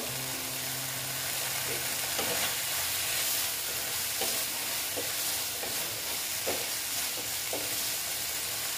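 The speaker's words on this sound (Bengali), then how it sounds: "দেখো একটু ভেজে নিচ্ছি এটার সঙ্গে।" Ground sesame and green chili paste frying in a pan, with a steady close sizzle, occasional stirring scrapes and a faint hiss of steam underneath.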